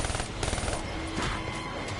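Rapid automatic gunfire from the Origins map of the video game Black Ops 3, a dense clattering burst of shots that fades and then picks up again, moderately loud.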